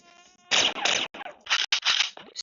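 Mosquitoes buzzing in a video game, loud close whining bursts that start and stop repeatedly, with a few short sharp gaps between them.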